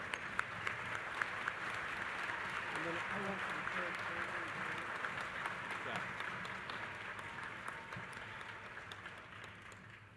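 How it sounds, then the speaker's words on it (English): Large audience applauding at a Northwest Missouri State University spring commencement ceremony, a steady wash of clapping at moderate distance with a murmur of voices mixed in, holding evenly for the full stretch. "Give them a round of applause before they get conferred"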